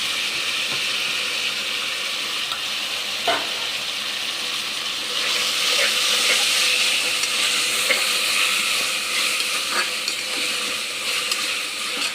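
Chopped ripe tomatoes sizzle and hiss steadily in hot oil with ginger garlic paste, with occasional stirring clinks close by, the frying growing louder midway.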